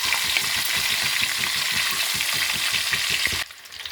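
Eggs fry in hot oil being turned in the pan, a dense crackling sizzle with rhythmic stirring pulses, close and loud, dropping away abruptly just before the end.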